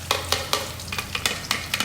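Blended onion and garlic fry in hot oil while being stirred, giving a soft sizzle broken by quick regular scraping strokes, several per second, close and clear.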